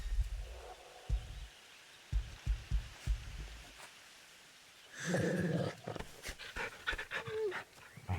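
A dog pants rhythmically in Final Fantasy XVI, quick close breathy puffs for several seconds, then a whimpering, louder vocal stretch with growly tones near the end.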